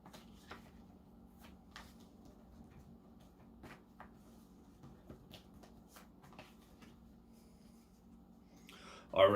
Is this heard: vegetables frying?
no